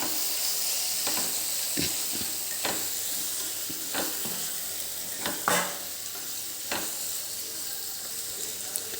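Kitchen king masala being stirred into paneer kadai frying in a pan, with a steady sizzle broken by repeated scraping stirs at irregular intervals, close and clear, no talking.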